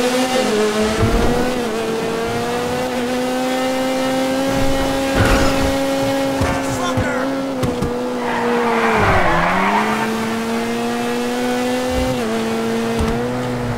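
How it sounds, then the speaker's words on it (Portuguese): Turbocharged car in GTA 5 Online, a tuned Sentinel Classic Widebody, revs loudly with a rising and falling engine note, tire squeal and sputtering exhaust pops, continuous and close with no talking. "turbina roletada, dá para ouvir bem os espirros, pipoco no escape"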